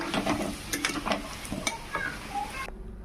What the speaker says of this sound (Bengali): এদিকে আলু বসিয়েছি ভাজতে